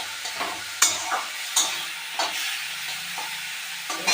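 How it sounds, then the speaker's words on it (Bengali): Potatoes and eggplant sizzle steadily in a frying pan while a spatula stirs them, leaving a handful of sharp scraping clacks over the constant hiss. "আলু বেগুনগুলো দিয়ে একটু নাড়াচাড়া করে নিলাম।"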